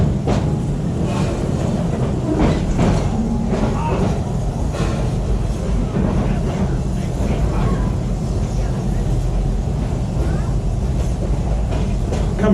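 Amusement park train at Busch Gardens Tampa rolling along and picking up speed, a steady rumble with faint rail clatter throughout, with voices talking over it.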